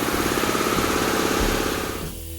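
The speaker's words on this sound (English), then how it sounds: "this is the Hammer Jammer profiling machine" A Hammer Jammer air hammer profiling tool hammering steel tubing, a loud rapid rattling pulse running steadily close by before cutting off near the end.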